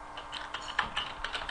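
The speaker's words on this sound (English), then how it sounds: "I could type in," Light clicking keystrokes on a computer keyboard as text is typed into a speech-bubble annotation, a brief irregular run of soft taps, close and quiet with no talk.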